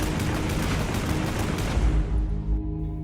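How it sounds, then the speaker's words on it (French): Bolter gunfire from the Warhammer Horus Heresy setting, echoing through tunnels as a sound effect: dense, rapid bursts of loud firing that thin out into a fading rumble near the end. "Les rafales de bolts qui suivirent furent entendues dans une bonne partie des tunnels"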